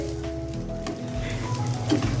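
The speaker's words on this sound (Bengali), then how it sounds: "ঘি দিয়ে আমি কিছুক্ষণ নাড়াচাড়া করব" Rice being stirred in hot ghee for a chickpea biryani, a short close sizzle with spoon scraping against the pan, no voices.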